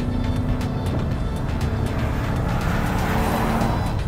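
A 2024 Lincoln Nautilus accelerating hard at full throttle from around 30 mph, its engine note rising steadily under a continuous roar of road and wind noise heard from inside the cabin.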